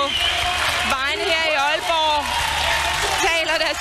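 Spectators cheer and applaud as a Danish women's road race champion crosses the finish line at the national championships in Aalborg, a loud continuous crowd roar with clapping and shouts, a commentator's voice talking over it throughout.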